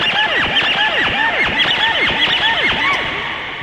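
Randomized Synplant synth patch playing chords, giving loud, squealing tones that swoop and bend repeatedly in quick rhythmic arcs, almost like whinnying, with no voices over them.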